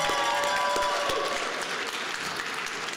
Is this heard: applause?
yes